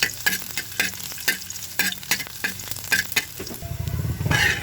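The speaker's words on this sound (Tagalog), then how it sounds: "mainit na yung ating mantika, lagyan na natin yung ating bawang" Garlic sizzling in a little hot cooking oil in a pan, with repeated stirring scrapes and clinks throughout and a louder, denser frying burst near the end, close by with no talk.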